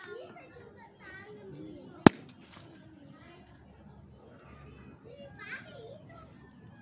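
A single sharp pop of a balloon bursting rings out clearly in a lively room while children chatter and play in the background.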